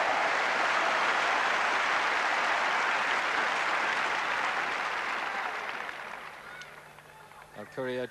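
A tennis crowd at a 1992 Korda versus Courier match breaks into loud, sustained applause and cheering that slowly fades, with a commentator's voice emerging near the end.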